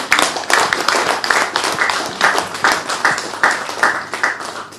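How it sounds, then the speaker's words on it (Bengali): An audience gives loud, sustained, rhythmic applause at a government ceremony signing three ILO conventions for workers' interests. Many hands clap together close by for the whole stretch, with no break. "আমরা জোরে একটা হাত তালি দিই"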